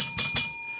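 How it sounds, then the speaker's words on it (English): A small bell is struck twice in quick succession, bright metallic rings with a lingering high tone that fades out, close and loud with no talk. "ring the bell"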